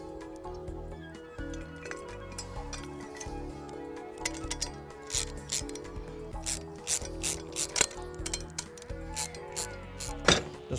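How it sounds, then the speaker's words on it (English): A 13mm spanner with a ratcheting action tightens bolts while assembling a Berg Extra Sprinter go-kart, giving close, rapid clicking in repeated bursts with short pauses between strokes, growing louder toward the end. "So you need 2 13mm spanners. They're both 13s to tighten them."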